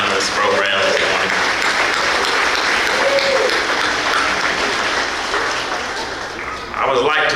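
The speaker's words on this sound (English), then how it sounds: "Can we give those students a loud applause for the work that they've done in this program this morning?" An audience at a school Veteran's Day program claps for students, a dense sustained wash of applause filling the room for several seconds, dipping briefly and then swelling again, with voices faintly mixed in.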